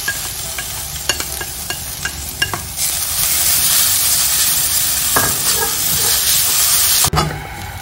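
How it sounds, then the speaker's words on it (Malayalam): Grated coconut roasting in an oiled pan, with repeated scraping stirs and sharp taps of a spoon against the pan over a steady hissing sizzle, close up and without talk. "അപ്പോൾ നമ്മൾ അതേ പാനിൽ തന്നെ ഈ തേങ്ങ ഒന്ന് വറുത്തെടുക്കാം നമുക്ക്."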